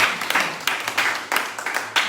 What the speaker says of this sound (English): You've given a round of applause